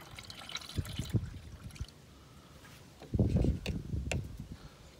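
Antifreeze coolant pours into the reservoir of a 2008 Dodge Charger in two bursts of gurgling and trickling, separated by a quiet pause; close but fairly soft, with no talking.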